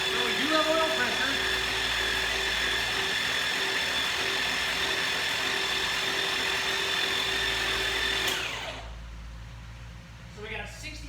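A Pontiac 400 V8 cranking over on the starter, a steady droning whir that holds for several seconds and then cuts off abruptly, leaving a quieter background.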